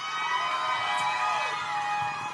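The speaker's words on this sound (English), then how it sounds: "Guys, can we get another round of applause for Sabrina" Crowd noise from an El Paso Strong rally honoring lives lost, a steady wash of cheering and applause for a speaker named Sabrina, broad and sustained with no clear individual voices standing out.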